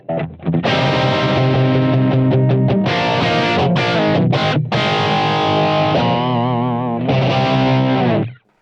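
Overdriven electric guitar chords through a Plexi amp model on a BOSS ME-80 ring out with a warm crunchy tone, strummed in sustained bursts with brief choppy stops and a wavering held note.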